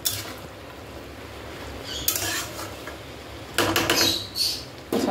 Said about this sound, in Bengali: খুন্তি দিয়ে পুরো এটাকে মাখ মাখ করতে হবে ভালোভাবে।